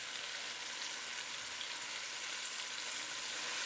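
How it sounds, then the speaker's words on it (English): A beef roast sears in a hot Ninja Foodi pot, giving a steady, close, loud sizzle and crackle of frying meat that holds without a break and has no talk over it. "you are gonna go on all sides of this meat to sear, even the edges, every bit of it, you want to sear it"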